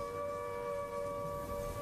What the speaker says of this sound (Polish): Później znowu zawyły syreny.